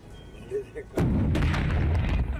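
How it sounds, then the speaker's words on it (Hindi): After a second of near silence, a powerful explosion booms out, trailing into a long rumbling roar with scattered crackles and pops. "जोरदार धमाके की आवाज आपने सुनी।"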